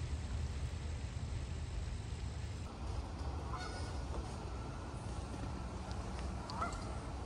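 Canada geese honking at a distance over a steady background hum outdoors, with a few faint scattered honks rising above the noise and no voices.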